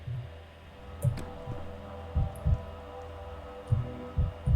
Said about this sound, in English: There's still this heartbeat noise that's happening.